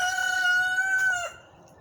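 A rooster in its outdoor pen lets out a single loud, close crow, a drawn-out harmonic call that rises and holds before trailing off, heard alone.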